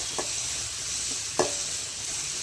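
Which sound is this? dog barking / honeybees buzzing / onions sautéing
onions sautéing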